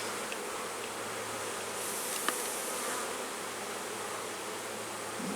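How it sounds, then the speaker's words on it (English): Honeybees buzzing steadily in an opened hive during a spring inspection after overwintering, a dense continuous drone close by with a faint click partway through and no talking. "I am really impressed with how these bees did over winter"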